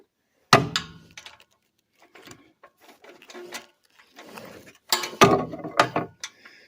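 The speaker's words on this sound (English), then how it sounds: "Save me some time with the ratchet." Sharp metallic clicks and clunks from a ratchet tightening a bolt on a Robin 2PG golf cart engine, coming in short irregular bursts with brief pauses, close and fairly loud.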